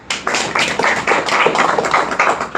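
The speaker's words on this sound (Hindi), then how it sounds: "ताली बजाओ" A group claps hands at a devotional lecture on the Bhagavad Gita, a dense, steady patter of many claps that runs for a couple of seconds after a short gap, close and fairly loud, with no talking over it.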